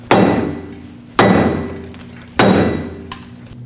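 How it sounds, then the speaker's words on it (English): A dead blow rubber mallet strikes an aluminum steering knuckle on a 2009-2010 Dodge Ram 1500, three loud, evenly spaced blows about a second apart, each a sharp metallic knock with a short ringing tail. "first I'm going to try a dead blow rubber mallet and tap right here"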